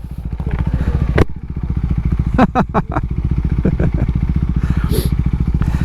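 A Husqvarna Svartpilen 401 motorcycle engine thrums steadily at close range, a rapid pulsing exhaust with occasional clatter and knocks, no talk over it.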